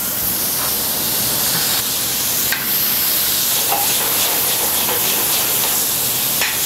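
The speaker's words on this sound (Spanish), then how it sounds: "Se saltea." Beef tenderloin sautéed in a restaurant pan sizzles with a steady, loud frying hiss and crackle, with occasional faint clinks of stirring.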